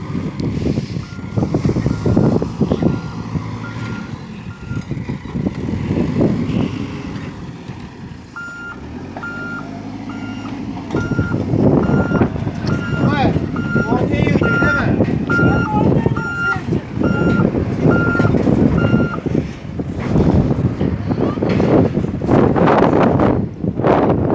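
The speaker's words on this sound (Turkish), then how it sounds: "Kepçemiz hala çalışıyor." An excavator works at a construction site where a house foundation is being laid, its engine rumbling steadily under wind noise while a reversing alarm beeps in a regular repeated pattern; voices talk now and then.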